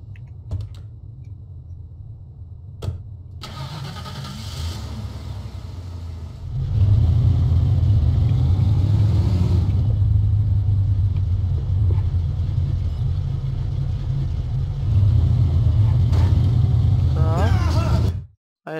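Car engine in the video game Mafia, Salieri's car, rumbles steadily at low pitch, then swells louder at about six seconds as the car pulls away and drives, holding that rough drone almost to the end.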